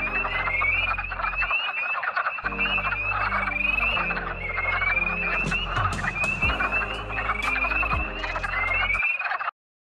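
A dense chorus of frogs giving rapid clucking croaks, steady and close, with a faint bird trill above the calls.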